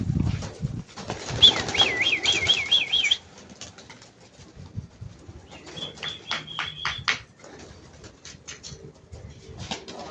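Pigeons taking off and flying, with bursts of flapping wings and warbling coos, busy and close at the start, then quieter with scattered wingbeats and calls, heard with no talking.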